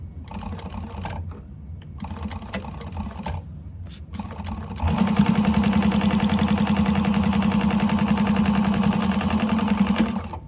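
A sewing machine top stitching along a folded seam of fabric for a candy bag, a few short bursts of stitching with pauses, then a long steady rapid whirring run, close and fairly loud, with no talk.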